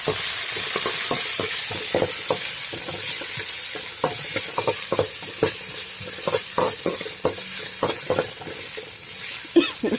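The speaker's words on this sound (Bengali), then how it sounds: "পেঁয়াজ লাল করে ভাজা হয়ে গেছে" Onions frying until reddened in a pan with oil, garlic and red chilli for dal, a close hissing sizzle broken by frequent sharp scraping stirs.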